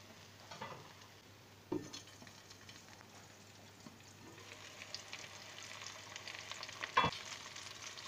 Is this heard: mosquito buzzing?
no